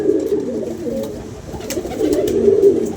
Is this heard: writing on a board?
no